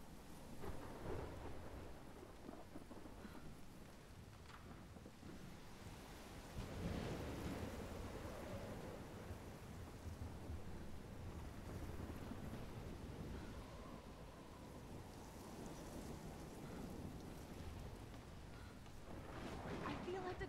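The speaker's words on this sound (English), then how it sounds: "I've never seen a storm like this in Oregon." A violent thunderstorm in the game Life is Strange, with thunder rumbling through steady rain, wind and crashing surf across the whole stretch, and a voice speaking at times beneath the loud, continuous roar.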